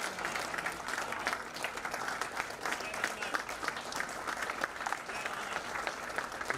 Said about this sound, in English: entire NHRDA chapter and Mr. Himanshu Bhatt deserves a big round of applause.